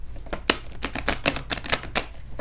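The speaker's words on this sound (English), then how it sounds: "One more shuffle, a transformation card or two, please." Tarot cards are shuffled by hand in a quick riffle, a rapid run of crisp papery flicks and snaps, close and clear with no talking.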